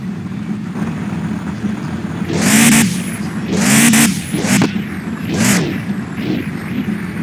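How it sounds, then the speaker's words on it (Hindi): A car engine in a car showroom video game starts up and revs, with three or four rising and falling revving bursts over a steady idle hum, loud and close with no talk. "engine start"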